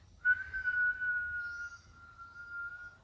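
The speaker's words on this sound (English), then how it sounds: "Try to vocalize the breath and maybe even whistle on the way up and down." During a Pilates exercise, a person exhales as a long, steady whistle that holds one thin tone for nearly three seconds, close and clear over faint low room noise.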